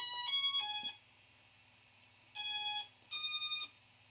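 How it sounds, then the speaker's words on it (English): An Aeroo Pro drone powers on with electronic beep tones: a short multi-tone chime, a pause, then two more bright tonal bursts, clear and close against a quiet background hum. "until we hear that beep again."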